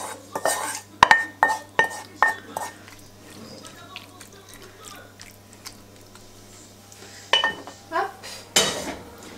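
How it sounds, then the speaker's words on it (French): Cooked fennel goes into an oven dish with a run of close, sharp clinks and scrapes of utensil on cookware, coming in irregular bursts over a quiet background hum. "Dans un plat qui va au four, je vais mettre, je vais vous baisser, mon fenouil qui est cuit."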